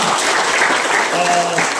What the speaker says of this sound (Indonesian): Dan tepuk tangan untuk kita semua.